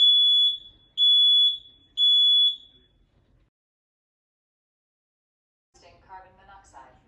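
A household smoke alarm under test gives three loud, shrill beeps about a second apart and then falls silent. A voice speaks briefly afterward.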